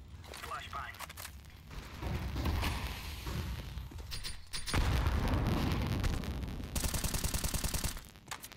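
A grenade blast in Counter-Strike 2 lands amid dense, rapid gunfire and game effects, with a heavy low rumble swelling midway through a busy, continuous stretch of combat noise.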